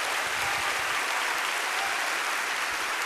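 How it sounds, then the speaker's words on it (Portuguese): A congregation at an evening Baptist church service fills the room with dense, even applause, a loud continuous wash of clapping with no voices over it. "Você pode dar um aplauso ao Senhor?"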